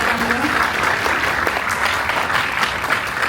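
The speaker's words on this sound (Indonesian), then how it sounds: "Boleh tepuk tangan dong?" Audience at a senior high school graduation ceremony claps steadily, a loud, even roar of applause from a large crowd throughout.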